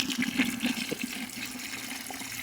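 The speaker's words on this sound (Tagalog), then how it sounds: "Lalagyan na po natin ng tubig." Water pours and gurgles steadily into a rooftop waterproofing mix, a continuous close splashing flow with small bubbling bursts near the start.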